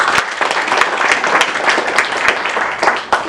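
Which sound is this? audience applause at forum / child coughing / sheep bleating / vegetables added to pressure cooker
audience applause at forum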